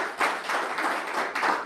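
Brief applause from an event audience, a short burst of clapping in uneven waves that swells and fades slightly over under two seconds.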